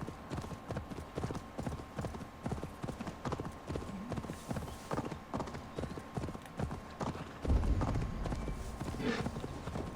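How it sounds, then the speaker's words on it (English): A horse walking in the Assassin's Creed Valhalla video game, steady rhythmic clip-clop of hooves throughout, with a brief heavier thump near the end. "The walking horse, it's doing the thing."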